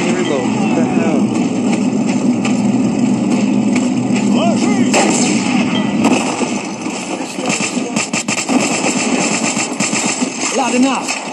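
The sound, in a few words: gunfire in video game World War Heroes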